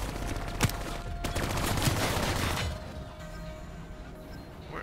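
Gunfire bursts ring out in Call of Duty Black Ops 3 as shots target vats, with a sharp impact early on and a dense stretch of shooting that fades into quieter ambience near the end.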